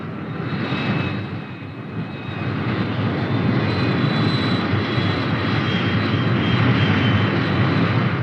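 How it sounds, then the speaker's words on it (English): Fighter bomber aircraft take off from a 1950s military air base, a loud, steady engine roar with a broad rushing hiss that holds throughout. "Back at the base, the fighter bombers take off."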